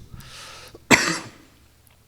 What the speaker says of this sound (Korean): 제가 이게 잔기침을 하는데 감기는 아닙니다